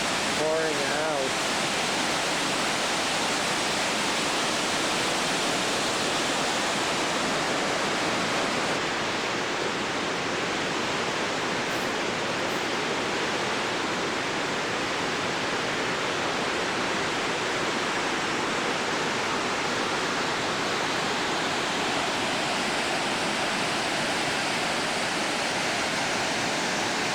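Waterfall on a river in Africa at low water, a continuous loud broadband roar of pouring water that stays steady and unbroken throughout.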